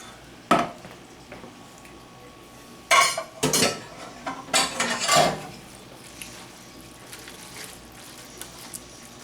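A spoon scrapes and knocks against a dish while tuna and melted cheese casserole mixture is stirred, with a few sharp clinks and a cluster of quick scraping strokes in the middle, then quieter, nobody speaking.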